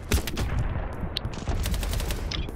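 Gunfire in the Battlebit video game, rapid overlapping shots and bursts from several weapons crackling continuously at close to mid range with a dense, loud battle backdrop.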